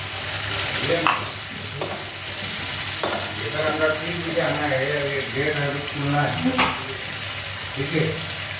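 Masala being sautéed for Bengali egg curry (dimer dalna) in a pan, with steady sizzling and intermittent scraping stir strokes; a voice speaks faintly underneath in places.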